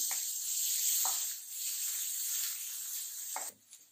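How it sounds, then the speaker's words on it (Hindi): Peas dropped into a hot pan of vegetables sizzle in a steady bright hiss, with a few soft stirring scrapes and a brief clatter near the end, close and fairly quiet. "अब इसमें मटर ऐड कर रही हूँ मैं इन्हें भी पूरा नहीं पकाएंगे हम"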